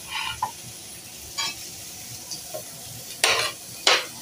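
Green chillies and ginger fry with potatoes in a pan, a soft steady sizzle broken by a few sharp scraping stirs of a spatula against the metal.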